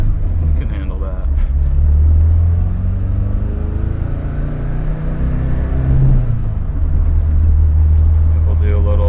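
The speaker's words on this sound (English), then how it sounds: "We'll do a little second gear rip right here." A K-swapped BMW E30 pulls hard at wide open throttle in second gear, heard from inside the car: a loud, continuous engine drone that rises in pitch as it revs, over a steady low road rumble.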